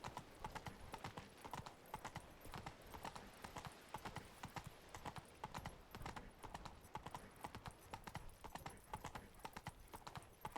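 Roach the horse trots along in The Witcher 3, hooves clip-clopping in a quick, even rhythm that runs steadily throughout at a quiet, moderate distance.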